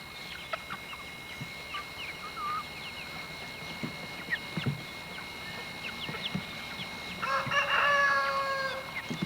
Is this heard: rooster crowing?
yes